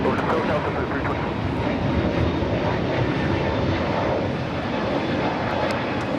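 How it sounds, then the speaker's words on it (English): A JetBlue Airbus A321neo takes off from LAX, a loud, steady broadband engine roar filling the scene without letup. "This is your flight, JetBlue 324, taking off to JFK on the A321neo."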